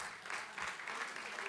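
Applause in a parliamentary chamber during a National Treasury budget debate, a brief burst of scattered clapping from the house at moderate distance, with a faint voice underneath.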